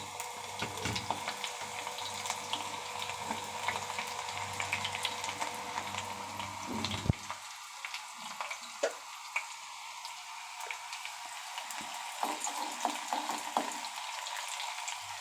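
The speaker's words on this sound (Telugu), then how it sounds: "చక్కగా గోల్డెన్ కలర్ వచ్చేంత వరకు ఫ్రై చేసుకోవాలండి" Two small chopped onions fry in oil in a pan with a soft, continuous crackling sizzle and scattered tiny pops, close but quiet. A low hum fades out about halfway through.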